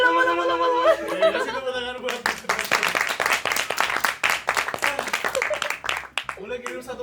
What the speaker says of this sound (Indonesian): Oke, kasih tepuk tangan buat